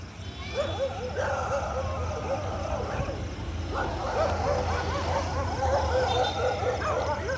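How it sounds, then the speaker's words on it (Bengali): Several dogs bark, yelp and whine repeatedly during a mock drill at night, with a warning siren sounding and lights switched off all around. The yelps come in irregular clusters at moderate distance, with some indistinct voices present. "কুকুর এত ঘেঘু করে না কিন্তু আজকে এত কুকুর ঘেঘু করছে"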